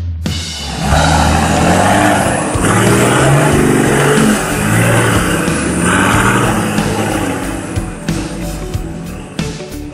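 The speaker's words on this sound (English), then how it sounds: "Also listen to the amazing sound of this model's engine." A 1993 Nissan Patrol GR Y60 with a 120 HP engine and 5-speed manual runs and revs loudly up close, a steady deep drone that swells and falls across the clip.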